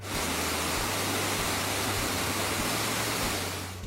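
Dense, steady roar of falling water at Eternal Flame Falls, loud and continuous with no voices.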